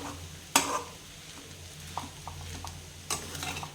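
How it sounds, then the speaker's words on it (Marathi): Boiled potato goes into a pan for sabudana khichdi and is stirred and sautéed, giving a soft sizzle under a few sharp utensil scrapes and knocks against the pan, close by and with no talk. "हा जो बटाटा आपण शिजवून घेतला होता तो घालून घेऊया, म्हणजे तोही छान परतला जाईल"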